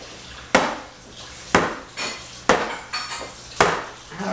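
A chocolate fudge cake pan is tapped gently against a surface four times at roughly one-second intervals, each a sharp near knock with a brief rattle, alone without talk.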